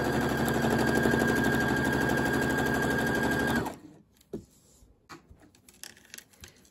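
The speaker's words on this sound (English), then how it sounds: "I'm just going to stitch a 1/4 inch seam down." A sewing machine stitches a quarter-inch seam on a small quilted mug rug, a steady fast whirring buzz for several seconds that stops abruptly, followed by light handling clicks and rustles.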